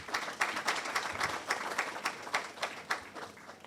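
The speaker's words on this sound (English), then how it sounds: "A round of applause to Doc." An audience at a currency forum claps together, loud and close, with a sustained wash of many hands and a faint rhythmic pulse running through it for several seconds.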